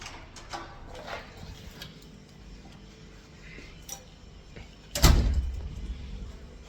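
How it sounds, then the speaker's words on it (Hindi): A home door being opened on coming inside, with a loud thump and rattle of the door near the end after quieter ticking and shuffling handling sounds, close by and with no clear talk. "दरवाज़ा खोलते हुए घर में चलते हैं"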